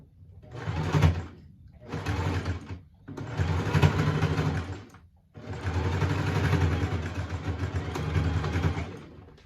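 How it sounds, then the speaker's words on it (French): A sewing machine stitches over an already sewn seam on a small fabric coin purse in four loud, close bursts of rapid whirring, separated by brief pauses. "faire la couture sur la couture qu'on avait déjà faite avant pour la surpiqûre"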